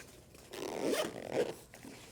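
Zipper on a Kifaru Bino harness pouch drawn close to the microphone, a short raspy zip of about a second with two brief surges, otherwise quiet.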